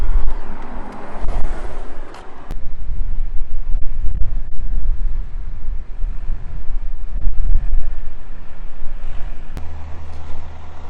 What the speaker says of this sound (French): Mais il y a pas mal de vent, ça fait du bien, ça rafraîchit un peu.